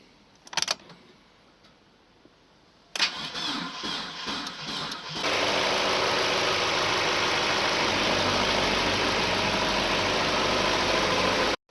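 A car with a flat battery is jump started. A few clicks and a cranking attempt come first, then the engine catches and settles into a steady, loud, close idle that runs on alone.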